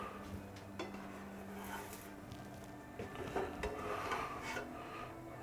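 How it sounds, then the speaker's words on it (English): Two spatulas scrape and rub beneath a protein pancake in a pan, a close rasping metal-on-pan scuffing with clinks, steady over a few seconds with no talk. "So I just get 2 spatulas under it."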